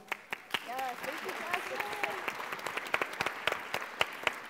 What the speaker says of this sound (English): And a big round of applause for our moderator as well